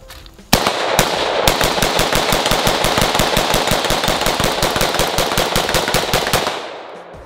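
An AR rifle fires a long rapid string of shots, sharp loud reports in an even fast rhythm lasting several seconds outdoors, ending abruptly, with no talking.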